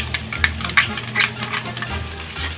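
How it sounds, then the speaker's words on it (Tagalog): Three cloves of minced garlic sautéing in oil in a pan over medium heat, a continuous soft sizzle with occasional scrapes of a utensil stirring, close and alone. "saute the 3 cloves of garlic"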